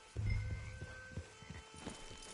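Horse hooves in the video game Red Dead Redemption 2 clop in an uneven walking rhythm of several soft, close thuds, beginning with a louder shuffle and then settling over faint ambient tones.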